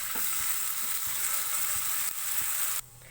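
Garlic ginger paste fries in hot oil on medium flame, a dense steady sizzle with soft spoon-stirring taps, close by, dropping in intensity near the end.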